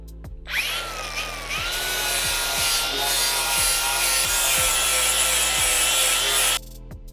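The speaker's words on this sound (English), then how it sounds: "I'm going to start grinding this away just to kind of assess how bad the rust is" A power grinder whirs steadily and loudly as it grinds rust off a Vespa scooter's metal body, holding a constant abrasive drone close up for several seconds before cutting off.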